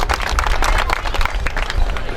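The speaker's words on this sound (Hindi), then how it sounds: "जोरदार तालियों से हमारे डीआईजी साहब का" A crowd at a Meena community mass wedding gathering applauds a DIG loudly, dense rapid clapping close and continuous throughout.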